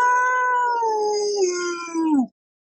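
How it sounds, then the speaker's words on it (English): A single recorded wolf howl plays alone, a loud, steady tone that slowly falls in pitch and cuts off sharply after about two seconds. "Now that's a wolf."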